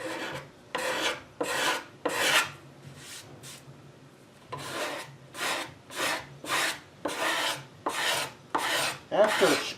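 A hand scraper works hide glue off a wooden serpentine chest in about a dozen close, rasping strokes, grouped in short rhythmic runs with a brief pause midway.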